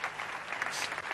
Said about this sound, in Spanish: Un aplauso para él, que lo tenemos aquí.